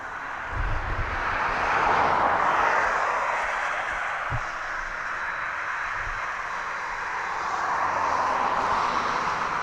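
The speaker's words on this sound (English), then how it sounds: "And your DHL, it's a Boeing 757." A DHL Boeing 757 at East Midlands Airport gives off a steady, broad jet-engine whine and roar at night, rising slightly then holding, with a few low thumps underneath.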